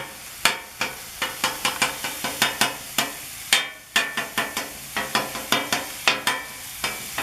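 Metal spatula chopping tacos filling on a sizzling griddle, steady frying hiss under a run of sharp, rhythmic scraping clacks, about two per second, loud and close with no talk.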